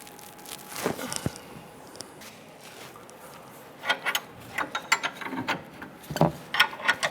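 A ratchet wrench working to break loose a control arm bolt under a 2005-2010 Chrysler 300, with quiet scraping early and then bursts of close metallic clicking and grinding.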